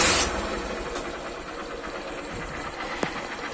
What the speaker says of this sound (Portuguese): O barulho que a moto faz com o comando,